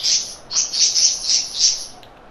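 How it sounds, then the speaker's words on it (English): Birds chirping excitedly outdoors, bright bursts of tweets coming in quick clustered rows, fairly loud and close, with brief gaps between them and no talk over them. "Oh, these birds are excited."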